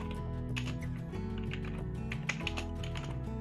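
Fingers type steadily on an iPad hardware keyboard, a quick run of light, close key clicks over a humming background.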